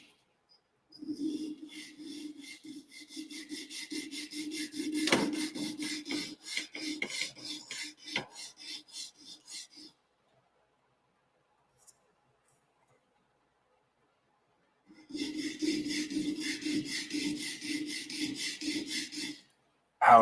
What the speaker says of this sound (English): I gotta file this one down too.